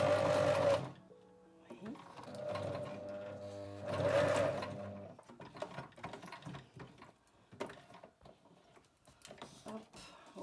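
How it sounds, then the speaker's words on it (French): A sewing machine stitches a seam in fast humming bursts, close and prominent, with pauses where fabric is handled and a brief spoken word. "Et je fais une couture tout le long."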